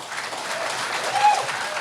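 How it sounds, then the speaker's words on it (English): A crowd at a Fresno State basketball event applauds to welcome a new coach, a steady, fairly loud wash of clapping with a faint voice briefly rising above it. "Please, round of applause for him."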